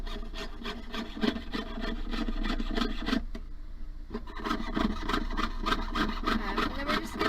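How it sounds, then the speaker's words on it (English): A jeweler's saw rasps back and forth through thin metal sheet in a steady, quick rhythm of short strokes, close up, with a brief pause midway. "we're just going to continue sawing this until I've got my entire hand shape cut out"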